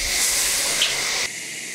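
Water poured into a hot wok of stir-fried pickled greens bursts into a loud, steady steam hiss, which drops off abruptly near the end.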